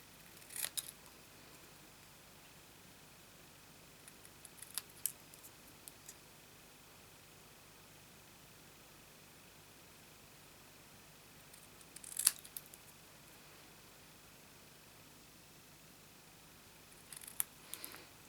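Scissors snip through paper for a tie dye t-shirt card in a few short, faint bursts of close crisp cuts, separated by long stretches of near silence.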